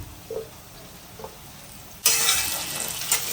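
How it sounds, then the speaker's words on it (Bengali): Onions with green and red capsicum fry in a pan; a few faint spoon taps over a low hiss give way to a sudden, loud, steady sizzle as the vegetables hit the hot oil. "এবার এই সব সবজি একটু ভালো করে ভেজে নিয়ে"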